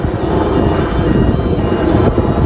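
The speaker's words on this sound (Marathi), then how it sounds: "helicopter helicopter helicopter" A loud, continuous roar from a helicopter flying close overhead at a Mumbai beach fills the whole moment with dense engine and rotor noise.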